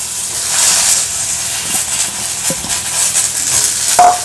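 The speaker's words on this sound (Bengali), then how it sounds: "আলুগুলো সরু সরু করে কেটে নিয়েছি আলুগুলোকে দিয়ে দিলাম" Thinly cut potatoes hit hot oil seasoned with asafoetida, giving a loud, steady hissing sizzle that swells and holds, broken by faint scraping stirs and a small clink near the end.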